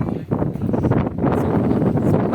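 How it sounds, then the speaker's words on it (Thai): Strong, cold wind buffets the microphone on a mountain glass walkway in China, a loud, rumbling, gusty roar that rises and falls without pause. "ลมแรงอากาศเย็นมากเลย"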